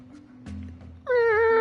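A single drawn-out cat meow, close and loud, rising after a moment of quiet room noise and holding steady to the end.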